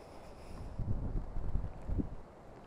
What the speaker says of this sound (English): You see how strong the wind's blowing.